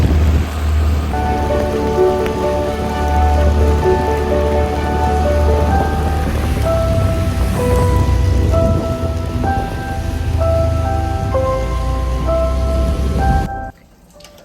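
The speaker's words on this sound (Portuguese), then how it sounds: "Tá chovendo, mano. Tá chovendo." Steady heavy rain falls on a surface outdoors with a continuous close hiss, under a faint tonal hum, before cutting off abruptly near the end.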